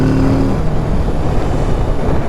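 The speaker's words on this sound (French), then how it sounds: "Le son de la moto est pas fou non plus." A 2020 Kawasaki Z650 motorcycle with its stock exhaust while riding, a loud, steady engine drone with a low rumbling note and brief tonal whine at the start, heard close and without talk.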